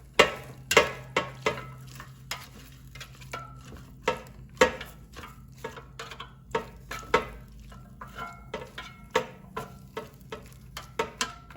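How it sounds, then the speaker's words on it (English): Beef liver and onions are tossed and mixed in an opened air fryer basket. Repeated sharp clicks, taps and scrapes of a utensil against the metal basket come up close over a low, steady hum, with no talking. "let's open the air fryer basket and mix liver and onions so they cook evenly"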